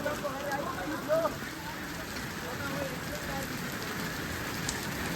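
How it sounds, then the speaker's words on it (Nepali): Hail falling on a hilltop camp at Lipe Hill in Lamjung, Nepal, producing a dense, even, faint patter of ice that runs steadily from start to finish. "ओ असिना पर्यो असिना।"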